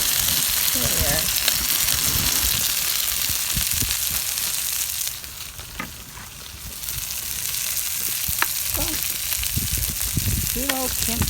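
Food fries on a small butane camp stove at a campsite, a steady loud sizzle and crackle that dips briefly midway, with occasional faint clinks and stirring sounds close by.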